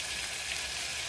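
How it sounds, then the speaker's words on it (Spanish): Chorizo fries in a hot pan with a steady, dense hiss of sizzling fat that holds evenly throughout, close and without talk. "vamos a dorar un poquito el chorizo"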